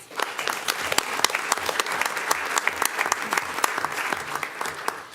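A room at a school board meeting breaks into hearty applause, with many hands clapping in a thick, crackling burst that stays strong for about five seconds before easing off.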